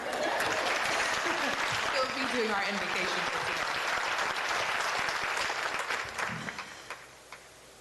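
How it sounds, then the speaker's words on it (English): An event audience gives applause for a pastor in a three-piece suit at a diversity awards celebration, steady clapping that fades out near the end while a host speaks over it. "You better give this man a hand clap."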